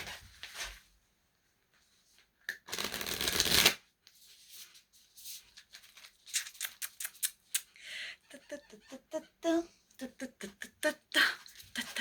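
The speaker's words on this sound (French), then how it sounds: "Je vais mélanger." Tarot cards are shuffled close up in a quiet room, with a dense riffle followed by bursts of quick riffling and soft card taps between short pauses.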